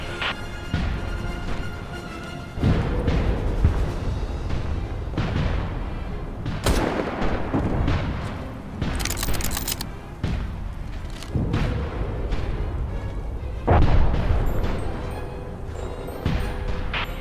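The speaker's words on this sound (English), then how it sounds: "taking out the flak cannons that surround the town" In the VR video game Medal of Honor: Above and Beyond, heavy flak cannon fire booms repeatedly amid a chaotic battle of gunshots, thuds and crashes, loud and sustained with little pause.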